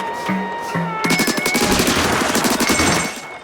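In the video game Splatoon Raiders, an ink weapon fires a rapid, loud stream of repeated bursts lasting about two seconds, preceded by a couple of short electronic blips and game music.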